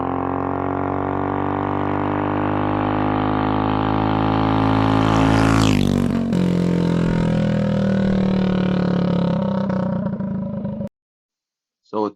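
A CC100X minibike engine fitted with a 12-tooth clutch and 440 chain revs up in a steady rising drone that climbs in pitch for about ten seconds, then cuts off abruptly.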